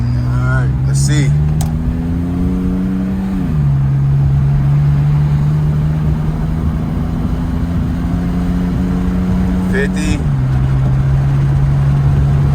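Car engine droning steadily while driving on a test drive, pitch climbing then dropping at two gear shifts, loud and close inside the cabin, with someone talking briefly over it.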